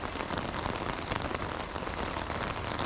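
Steady rain pours onto a surface at a campsite in Germany, a dense unbroken hiss that stays loud and even throughout, with no voices.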